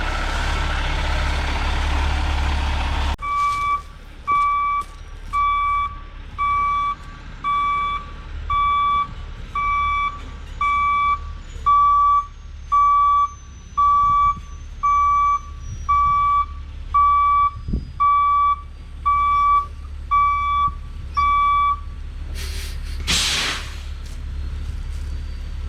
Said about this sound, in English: let's get this truck backed up to the hole then